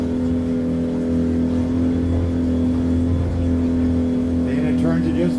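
An outboard motor on a soft-top aluminium fishing boat hums steadily as the boat turns, a loud constant drone with a slight rise in pitch toward the end.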